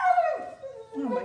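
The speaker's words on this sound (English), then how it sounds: "Okay, I may have to let my dogs out." Dogs whine and whimper in a drawn-out, wavering cry that dips low and rises again, close by and fairly loud, with no talking over it.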